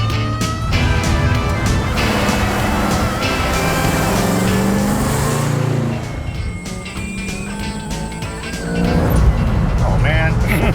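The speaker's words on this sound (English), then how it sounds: "What a great exhaust note." A loud, rumbling muscle car exhaust roars as the engine revs and shifts while driving, dipping briefly before surging again, with a voice talking over it.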